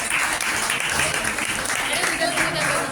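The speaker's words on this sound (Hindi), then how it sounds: "जिसने भी पार्टिसिपेट्स किया है उनके लिए जोरदार तालियां बजाएं" Loud, sustained clapping from students and staff at an Urdu-medium college freshers' party, a continuous wash of applause with voices faintly mixed in.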